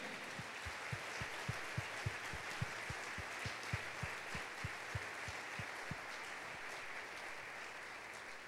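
A church congregation claps in a steady, even rhythm, the regular beats fairly faint and distant within a broad wash of hand noise that fades slightly toward the end.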